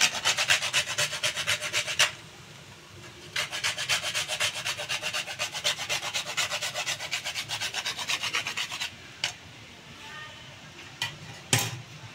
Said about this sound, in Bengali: আর বাকি যে জায়ফলটা ছিল সেটা আবার একটু ঘষে দেব।